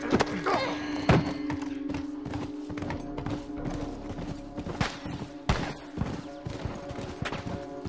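Hooves of a galloping horse in The Last of Us video game thud in a rapid, uneven rhythm under a steady game hum, with sharp clatters and knocks mixed in.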